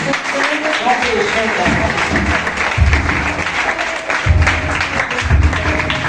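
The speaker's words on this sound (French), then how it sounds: "Il y a un gros applaudissement pour lui." A congregation at a Reformed Christian church applauds, a sustained roar of clapping while a voice keeps talking over it and low rumbling swells come and go.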